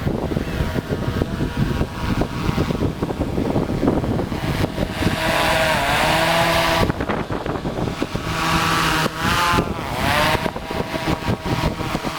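A buzzing drone motor whines steadily, its pitch rising and falling as it maneuvers, with wind rumble across the microphone; no one speaks.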